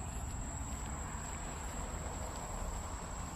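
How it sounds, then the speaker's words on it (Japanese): Steady insect chirring of an Emma field cricket on a night walk, a faint continuous drone under low background noise with no talking. "あ、エンマコオロギ。"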